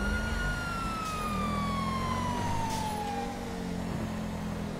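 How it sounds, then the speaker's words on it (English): Police car siren in GTA V with the LSPDFR mod, on a Ford XR6 Turbo highway patrol car of NSW, wailing loud and steady with descending sweeps over continuous road and engine noise throughout. "So I'll go ahead and cut the siren now."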